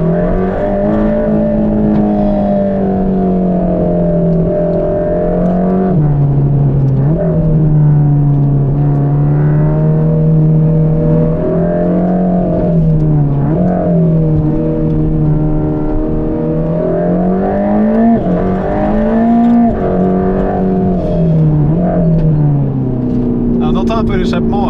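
Mercedes-AMG GT Black Series, a 730 hp sports car, droning loudly and steadily through its engine and exhaust under load, pitch rising and dipping with throttle changes and lift-off, with a voice talking over it throughout.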